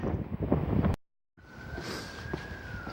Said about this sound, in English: Like I said, really windy.